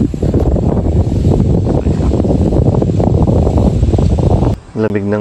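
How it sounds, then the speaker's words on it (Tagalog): Cold wind gusts across an outdoor provincial spot, a loud broadband rushing roar buffeting the microphone for several seconds before dropping away, with a brief tonal sound at the end. "Pero yung buga ng hangin talaga sobrang lamig."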